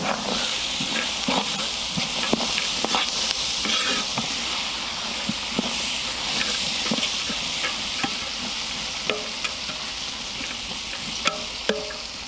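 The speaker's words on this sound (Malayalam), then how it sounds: "ഇനി കുറച്ച് പച്ചമുളക് കൊടുക്കാം. ഇതിനൊപ്പം തന്നെ പച്ച പട്ടാണിയും കൂടി ഇട്ട് കൊടുത്താൽ അതും വേകും." Green chillies and green peas frying in a pan with onions, giving a steady sizzle throughout, with frequent scraping clicks and knocks from stirring up close. No one speaks.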